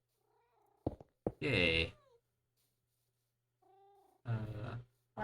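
Cat meows and purring bursts from the Minecraft video game come in short separate calls across a few seconds, with a player's brief exclamation among them.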